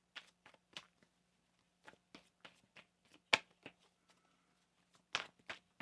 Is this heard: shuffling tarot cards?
yes